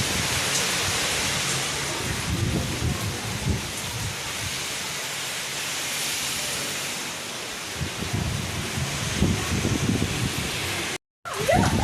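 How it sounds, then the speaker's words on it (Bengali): Heavy rain pours down with strong gusting wind, heard from a balcony as a dense, continuous roar that surges in places, with a brief cut near the end. "একদম মেঘ অন্ধকার করে ঝমঝমিয়ে বৃষ্টি নেমে গেছে, আর প্রচণ্ড বেগে হাওয়া দিচ্ছে"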